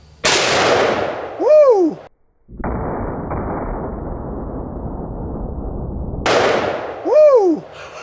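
Two sharp, loud blasts from a .454 Casull and a .460 Smith & Wesson Magnum revolver fired outdoors, spaced several seconds apart, each followed by a person's excited whoop.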